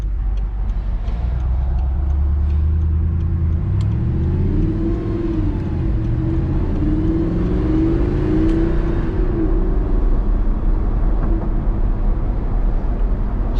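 Stock 4.2L V8 engine of a 2009 Audi R8 drives along, a steady low rumble with rising and falling revs through gear changes, loud and continuous from inside the car.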